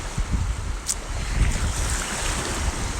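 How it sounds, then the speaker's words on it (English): Ocean waves break steadily over a beach sandbar in a continuous rushing wash, with wind buffeting the microphone and no voices. "this is also a place where sometimes I find good shells, is like right out here, like where the waves are breaking"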